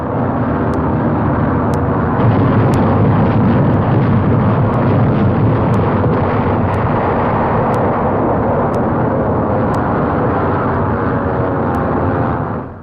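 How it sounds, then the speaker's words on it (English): Dense, continuous roar from the 1944 Normandy invasion bombing of a bridge between the coast and Paris, loud and unbroken throughout, with faint regular ticks on top and no voices. "Here is real pinpoint bombing."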